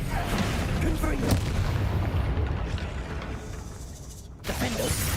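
A Confringo spell blasts out in Hogwarts Legacy, a booming game explosion over a loud, dense combat mix, followed by rumbling that fades before another burst near the end; a voice talks over it.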